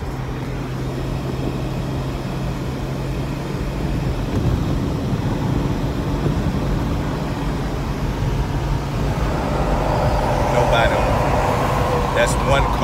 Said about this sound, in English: That's one car.